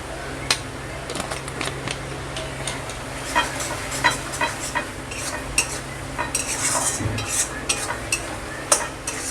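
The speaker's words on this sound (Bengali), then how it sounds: "আমি ঢাকা খুলে একটু নেড়ে দেব।" Mutton kosha being stirred in a pan with the lid lifted off: a spoon scrapes and taps the metal in irregular strokes over a steady low sizzle of frying oil and spices, close and fairly quiet, no talk.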